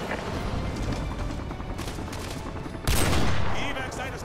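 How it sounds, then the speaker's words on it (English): Heavy gunfire at an evac site in the video game Call of Duty Modern Warfare 2, a dense, continuous rattle of shots with a louder burst near the end, under talk on the radio. "The evac site is still taking heavy fire."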